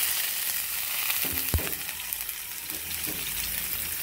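Garlic sizzling and frying in a hot pan for an ampalaya-with-egg dish, a steady close crackle with a brief clatter of stirring or tossing in the middle.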